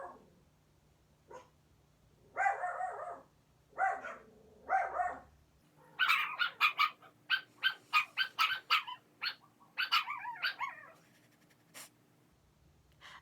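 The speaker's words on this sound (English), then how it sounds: "My dog is barking." A dog barks in a quick burst of repeated, fairly close yelps and barks in a quiet room, after a few earlier whines or short calls, with no talking.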